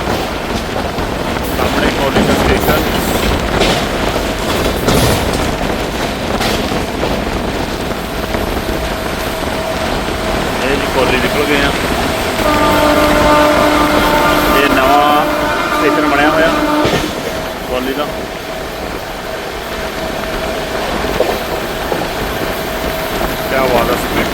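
Inside a passenger train travelling from Ambala Cantt to Patiala, a loud, steady rumble and rattle runs throughout, with voices talking over it.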